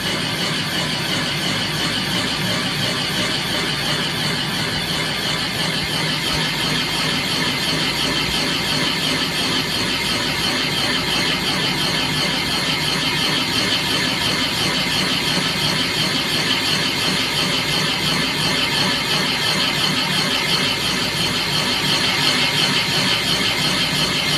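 A Rottler SG8MTS spindle cuts an exhaust valve seat in a 6.0 Powerstroke cylinder head, a steady harsh metallic grinding whine with a fast chattering texture, close and continuous for the whole stretch.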